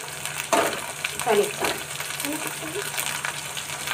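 Chopped tomato drops into masala frying in a pan for black chicken, giving a burst of sizzling with the splash and scrape of stirring, then a steady crackle; a voice is faintly present.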